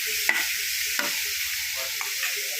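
Green chili and other ingredients being sautéed for spinach sambar, a bright steady sizzle with a few spoon strokes and taps against the pan, no voices.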